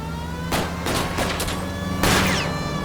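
Gunshots fired at car tires during a chase in L.A. Noire ring out as several loud, sharp cracks over a steady engine drone, spaced irregularly, with one heavier shot toward the end.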